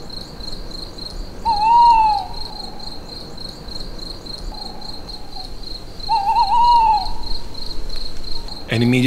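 Tawny owl hooting at night in the wild, two distinct wavering hoots a few seconds apart over a steady high chorus of crickets, moderately close and alone without voices.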